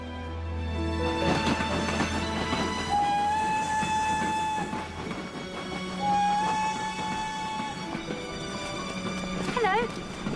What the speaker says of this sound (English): The next train on platform 1 is the 4:50 from Paddington.